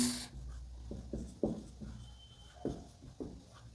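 A pen writing on paper, short close scratchy strokes in an irregular rhythm with small taps between words, fairly quiet over a faint room hiss.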